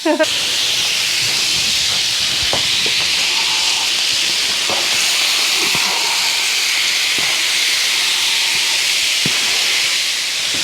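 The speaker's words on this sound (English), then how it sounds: "I'm putting the fajitas on there. Oh, listen to that sizzle." Fajitas sizzle in a greased nonstick pan, a loud, steady hiss with occasional crackles and pops that runs the whole way through.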